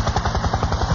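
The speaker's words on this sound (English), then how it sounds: "But look who is inside the helicopter." A helicopter's rotor chops in a fast, regular thumping rhythm, close and loud, with the pulses holding steady across the short moment.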